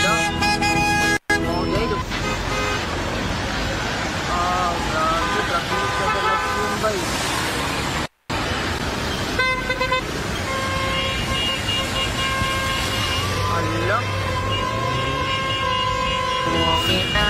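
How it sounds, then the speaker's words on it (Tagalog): Busy roadway traffic with big trucks passing close by, loud and continuous, with repeated horn toots and engine roar; people talk over the din. "Mga dagkong truck na naa dito sa likod."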